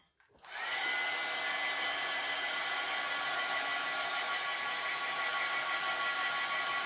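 A hair dryer blows steadily on a handmade craft project, a loud continuous airy whoosh that starts abruptly after a brief silence and holds at an even level throughout, with no talking over it.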